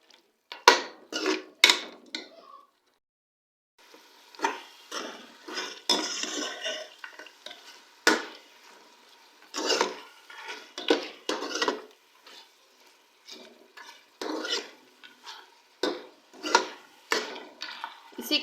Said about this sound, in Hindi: हम गोश्त को मज़ीद 3 से 4 मिनट तक अच्छी तरह से भूनेंगे